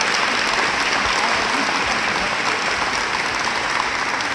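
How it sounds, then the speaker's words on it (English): Steady, dense applause from a large audience at a spring health-professions college pinning ceremony, continuous and even for the whole stretch. "let's get a big round of applause for"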